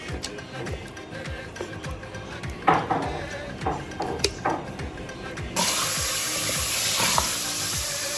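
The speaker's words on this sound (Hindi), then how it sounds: "तो पालक गोश्त के लिए मैं चिकन को भून रही हूँ यहाँ पर।" Chicken being browned in a pan for palak gosht, a steady sizzle broken by stirring knocks and scrapes, then a sudden louder hiss as fresh moisture hits the hot oil.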